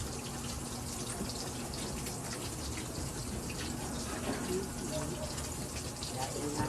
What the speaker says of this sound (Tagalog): Ipon pa ako ng tubig. Mahina kasi yung agas eh.